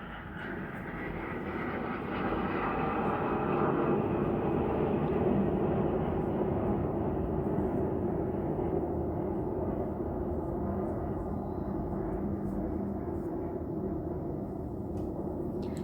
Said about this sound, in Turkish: Tepemizden 29 Ekim için uçaklar geçiyor